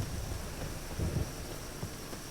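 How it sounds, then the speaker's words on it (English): Rain and thunder in the video game Witcher 3, a dense steady hiss of rainfall under low rumbling thunder that swells briefly midway, heard alone with no voices. "Rain again."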